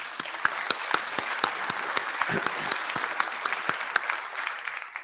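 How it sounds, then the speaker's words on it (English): An audience claps at an IETF plenary session, dense steady applause from a large crowd in a hall, sustained evenly throughout. "I know this is the bit you all love, the clapping"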